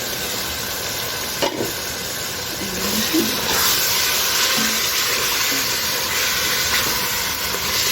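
Seasoned meat sautéing on a stovetop for white beans with meat, with black pepper added, gives a steady broadband sizzle from a pot. A few soft clinks and stirring sounds cut in near the middle and continue faintly to the end.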